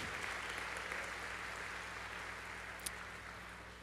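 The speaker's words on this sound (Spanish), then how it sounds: "Dale un aplauso al verbo de Dios" Church congregation applauding during a Sunday afternoon service, a faint, distant, continuous patter of clapping over a low hum, with one brief sharp tap near the end.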